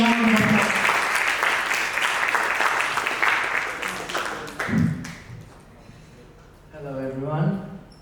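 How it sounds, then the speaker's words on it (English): Audience applause at a seminar, a dense burst of clapping from a seated crowd that gradually thins and dies away midway, followed by thumps and a person speaking in a room. "Please give him a round of applause."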